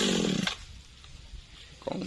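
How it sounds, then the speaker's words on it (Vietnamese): A G3700 chainsaw cuts through acacia tree bark. The engine snarls loudly at the start, drops to a low idle, then revs up again briefly at the end. "Rồi giờ chú cầm cái máy cưa xuống cắt hai cái da này cho đứt luôn qua."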